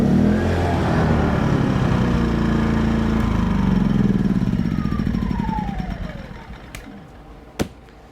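A small Atima inverter generator engine runs at a steady, loud drone, then winds down and cuts out, followed by a couple of sharp clicks near the end.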